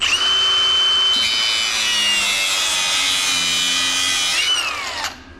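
An angle grinder cutting off a silver electrical contact gives a loud, continuous high whine with a steady grinding hiss for about five seconds before winding down, heard alone.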